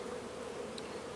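Honeybees buzz around an open hive on a farm, a faint, even hum with no talk.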